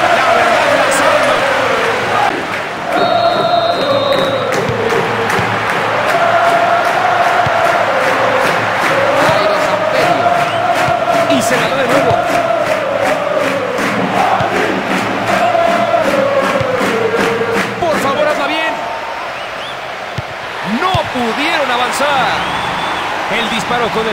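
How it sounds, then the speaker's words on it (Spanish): In the PS2 football video game PES 2019, during Real Madrid vs River Plate, a large stadium crowd roars and chants after a goal over a steady wash of cheering, with a commentator's voice talking throughout. "Escucha usted cómo rige la afición después de un gol impresionantemente aplaudido"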